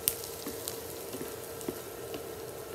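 White onion sizzles in a hot pan as it fries toward golden for cauliflower seafood fried rice, a steady soft crackle with occasional small pops and light stirring, close and fairly quiet.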